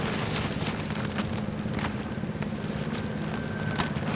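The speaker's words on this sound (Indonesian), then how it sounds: "hujan mulai turun ya di sini" Rain beginning to fall beneath a road bridge linking a housing estate in Bekasi, heard as a steady, dense hiss of drops with faint distant traffic underneath and no voices.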